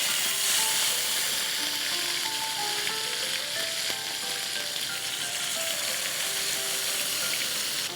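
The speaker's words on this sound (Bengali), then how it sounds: "এবার এই তেলটাতে আমি কিন্তু চিকেনটা ভেজে ফেলবো" Chicken for chicken chaap frying in hot oil, a loud, steady crackling sizzle that runs throughout, up close, with faint background music and no talking.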